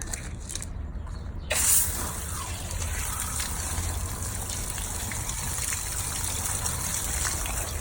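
Water gushes and splashes steadily while rinsing a western saddle, a continuous close spray after a brief clunk near the start.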